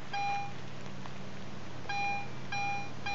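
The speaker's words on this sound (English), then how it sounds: "she's getting the coin bell tone in standard mode on the AT Pro." A Garrett AT Pro metal detector in standard mode sounds its coin bell tone, a clear high electronic chime repeated three times over steady outdoor background hiss.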